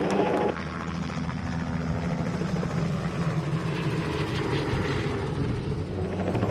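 A helicopter flies over the Kumbh Mela grounds at Haridwar, its engine and rotor making a dense, steady roar that stays loud and constant from start to finish, with no talk.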